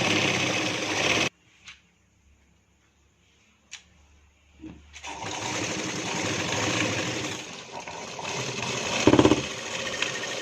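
Stitching a two-piece katori blouse, an electric sewing machine whirs briefly, falls nearly silent except for a couple of faint ticks, then runs again in a long, steady, moderately loud drone with a louder surge near the end.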